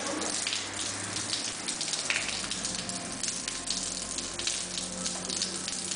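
Steady running water from a bathtub tap while a parrot is being washed, a constant close gushing and splashing with no pauses.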